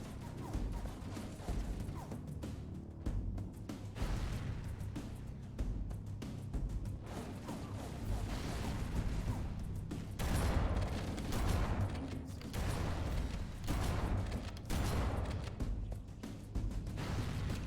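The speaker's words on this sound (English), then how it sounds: "Sorry, explosions gone off everywhere." Explosions and gunfire in the video game Halo: Combat Evolved, repeated bursts of shots and booming blasts in irregular clusters over a steady rumbling battle backdrop, moderately loud throughout.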